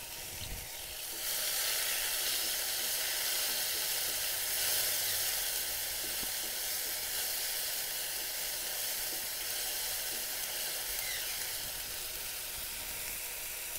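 Ground ginger, garlic and onion paste sizzles steadily in a hot frying pan, a dense, continuous hiss that swells loud after a brief quieter start and holds at an even level throughout.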